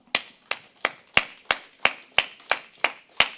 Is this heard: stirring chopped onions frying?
no